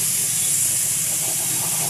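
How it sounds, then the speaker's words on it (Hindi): A pressure cooker used to brew coffee lets out a loud, steady whistle of escaping steam, a continuous high hiss that runs unbroken throughout with no talking. "उधर कुकर ने सीटी मारा, इधर अपनी कॉफ़ी ने सीटी मार, उबाल मारना स्टार्ट कर दिया"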